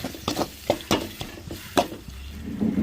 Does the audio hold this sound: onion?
yes